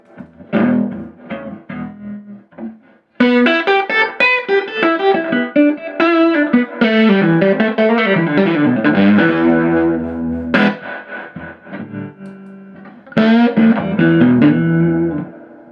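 Electric guitar played through a Whippleston Reverb tube amp, with volume on 7, treble on 5, bass on 3 and reverb near 3. Loud chords and melodic runs ring out with a reverb tail, separated by short pauses.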